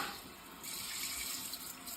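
An EPLO smart bidet toilet flushes, set off by a foot sensor: a steady, close rush of water runs for the whole moment, swelling slightly partway through, with no talking.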